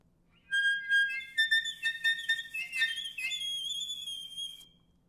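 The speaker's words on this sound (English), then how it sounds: "Teeth on reed, this is a technique that you see in avant-garde music to play extremely high notes." Piercing, whistle-like extremely high notes squeezed from a reed instrument using the teeth-on-reed technique, a wavering run of shrill pitches lasting about four seconds, close and alone.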